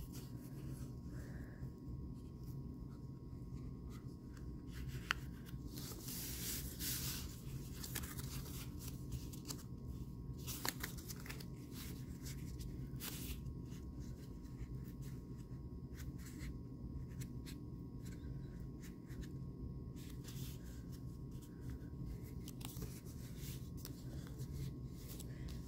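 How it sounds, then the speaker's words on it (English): Black paper is folded into a penguin bookmark, with soft, faint rubbing and creasing sounds as a fingernail sharpens the folds, repeated light rustles over a quiet, steady background. "You can drag your fingernail along the edge to make this fold really sharp."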